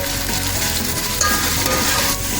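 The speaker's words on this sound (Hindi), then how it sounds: "गोश्त हमारा जो है भुन रहा है, हम इसमें अब डालेंगे लहसुन और भूनेंगे" Mutton frying with garlic for Afghani pulao, a loud, close, continuous sizzle and crackle of hot oil with faint stirring, unbroken and alone.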